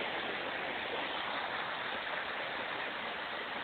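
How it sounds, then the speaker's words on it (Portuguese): Water flowing steadily through a treatment plant canal toward the settling tanks, a dense, even rushing hiss that runs alone and unbroken. "Esse é o canal de onde chega a água para os decantadores."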